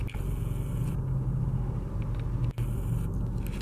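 Low, continuous rumble of cars idling and creeping in a Sunday traffic jam on a street in Eagle Rock or Glendale, heard from inside a vehicle with a steady engine drone and no talk.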